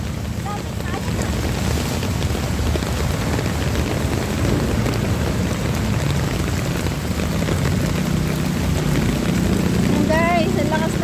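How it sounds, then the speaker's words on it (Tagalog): Heavy storm rain pours in a dense, steady hiss with gusts of wind buffeting the microphone. A faint voice surfaces briefly near the end. "ang lakas ng ulan"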